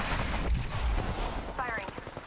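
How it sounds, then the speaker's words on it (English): Squad gunfire in the Apex Legends video game, dense rapid shots crackling together at mid distance, with a voice talking briefly over the shooting. "The squad behind me is still shooting."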